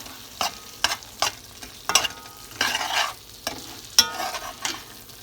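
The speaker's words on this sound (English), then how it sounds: "we're going to take this onion and pepper and we're going to throw that in there. We're going to mix that up" Onion and pepper being stirred into curry chicken liver frying in a pan: repeated close scraping strokes of a spoon, about one every half second, over a bright, continuous sizzle.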